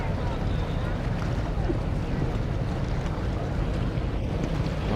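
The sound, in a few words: longtail boat on river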